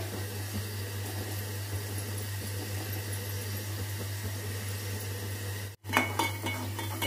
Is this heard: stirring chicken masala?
yes